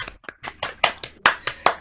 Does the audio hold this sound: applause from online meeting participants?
yes